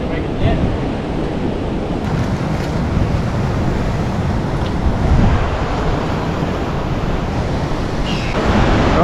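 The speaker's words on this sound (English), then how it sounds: "the waves are starting to hit the rocks" Ocean waves surge steadily against the rocks on a beach as the tide comes in, a loud, continuous wash of surf blended with gusty wind buffeting the microphone and no clear breaks in the roar.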